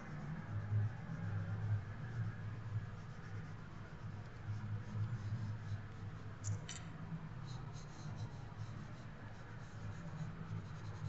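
A graphite pencil scratches softly and steadily across paper while strands of hair are drawn, a faint, continuous rasp of close strokes with no talking.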